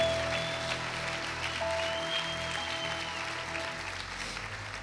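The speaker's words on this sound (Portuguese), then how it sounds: "aplauda ao Senhor" A church congregation claps in praise during a service, with steady sustained applause over sustained organ or keyboard tones.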